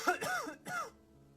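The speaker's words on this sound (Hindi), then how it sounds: "घर के अंदर से किसी के खांसने की आवाज आती है" Someone inside a house coughs and clears their throat, two or three rough hacking bursts close together, fairly close and followed by quiet.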